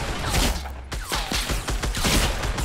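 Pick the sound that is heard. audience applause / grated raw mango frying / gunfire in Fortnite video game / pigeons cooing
gunfire in Fortnite video game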